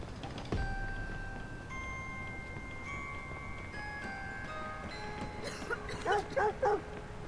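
A dog in Watch Dogs 2 lets out a quick series of three or four sharp barks near the end, moderately close, after a quiet stretch with steady tonal hums from the game.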